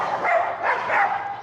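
Aging dogs bark in a rapid series of three or four close, fairly loud barks with a whiny edge.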